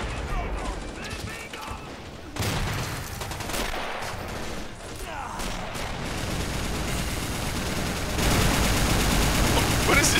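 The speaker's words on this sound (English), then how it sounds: "What is this guy shooting at?" Gunfire rattles through a World War II video game as a dense, continuous clatter of shots and mechanical noise that grows louder toward the end, with voices talking faintly underneath.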